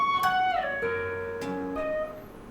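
Electric guitar playing a riff high on the neck, with hammer-ons and slides giving quick connected high notes that glide between pitches, clean and close, with no voices.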